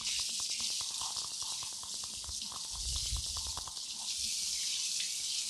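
Water sprays steadily onto a motorcycle chain being cleaned at home, a continuous hissing rush with rapid ticking and spattering, close and fairly quiet.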